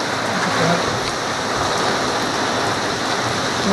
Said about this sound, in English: The rain is so bad that it comes in through a lot of the deck hole mounting.